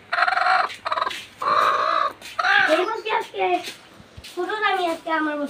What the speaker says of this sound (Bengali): এই যে এই জায়গায় 8টা মুরগিতে ডিম পাচ্ছে।